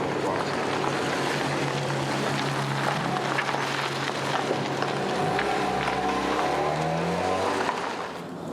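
A car pulling away, its engine hum rising and shifting steadily before fading at the end, with street background throughout.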